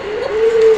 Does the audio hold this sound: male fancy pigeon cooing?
yes